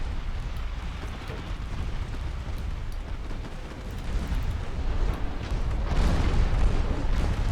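5-inch naval guns fire in a naval warfare game during a US campaign against an armoured cruiser, rumbling booms over steady low battle noise that swell louder toward the end, with no voices.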